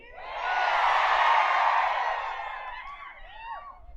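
A large crowd at a political rally in Latur roars and cheers, swelling into a loud sustained shout, then fading as scattered whoops and whistles ring out near the end.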